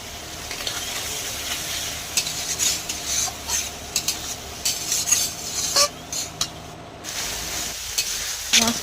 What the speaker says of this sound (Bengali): এখন দিয়ে দেবো লবণ হলুদ দিয়ে ভালো করে নেড়ে চেড়ে নেব